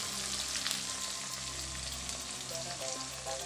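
Marinated chicken sizzles in a pan with browned onions for an Assamese chicken curry, a steady close crackling fry with faint stirring clinks and no voices.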